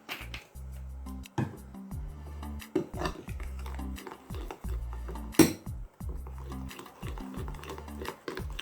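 Homemade chocolate being mixed in a bowl: a spoon scrapes and taps repeatedly against the sides in an uneven rhythm, close and quiet, with one brighter clink partway through and no voices.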